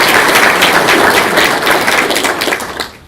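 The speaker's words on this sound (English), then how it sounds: "will we please give him a round of applause?" A loud, full round of applause from a large audience at a regional outlook event, honoring an absent mentor; dense clapping holds steady, then thins and fades out near the end.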